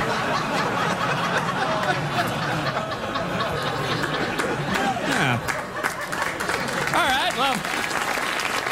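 Studio audience applause during a stand-up set on a late-night talk show, a steady clatter of clapping mixed with chuckles and scattered crowd voices, with someone talking over it in the middle.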